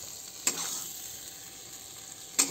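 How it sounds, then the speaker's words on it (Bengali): Prawns frying in a pan make a steady, close sizzle, and two sharp clanks of a utensil on the pan land near the start and end. "এই যে আমার চিংড়ি মাছ কটা এই যে ভালো করে ভাজা হয়ে গেছে।"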